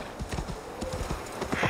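Horse hooves clip-clop in a steady trotting rhythm in the video game Assassin's Creed Valhalla, close and clear, with a brief whinny-like sound and game ambience underneath.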